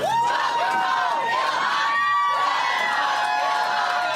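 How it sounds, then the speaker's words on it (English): A crowd of supporters at an airport greets a returning congresswoman with loud cheering and rising, sung-out chanting voices that carry through the whole moment. "Congressmember Omar arrived back in the Twin Cities in Minnesota to a crowd of supporters at the airport"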